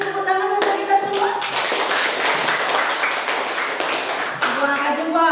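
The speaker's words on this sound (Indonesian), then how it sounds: "kita beri tepuk tangan untuk kita semua." A school class applauds together, clapping loudly for a few seconds, with voices speaking before and after.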